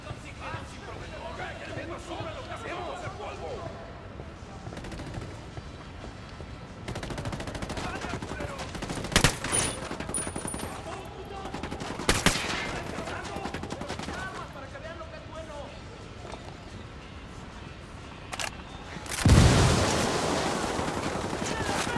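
Sustained automatic gunfire from an armed squad in Ghost Recon Wildlands fills the clip in rattling bursts, with sharper close shots and a loud blast near the end, under shouted voices.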